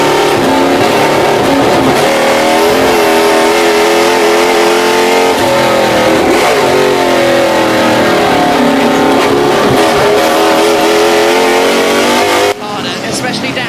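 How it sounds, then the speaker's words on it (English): Race cars including a Ford Mustang Boss 302 and a Rover racing at Goodwood, loud close engines roaring and revving with shifting pitch throughout, under an excited commentator's voice, cutting quieter near the end. "Fred Shepherd's going to draw alongside the Rover, and the Ford Mustang is going to take that spot"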